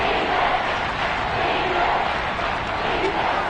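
Dense, steady roar of a big stadium crowd in a Madden football game, loud and unbroken with swelling cheers and no clear individual voices.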